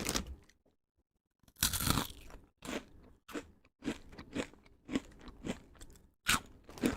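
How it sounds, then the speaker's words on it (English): Loud, close crunching and chewing of Hawkins Canadian corn-based cheddar cheesies, a quiet start giving way to repeated sharp crunchy bites in an uneven rhythm, with no talking. "These are Hawkins cheesies. So these are Canadian cheesies. They are so fucking crunchy"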